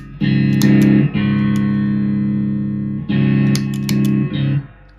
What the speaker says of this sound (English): In terms of how much of the effect, how much of the Tube Screamer, it's at halfway, and it's on the fat setting.